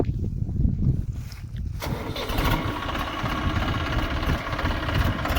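A tractor's diesel engine cranks and catches, then settles into a loud, steady rumbling idle close by, on a farm field.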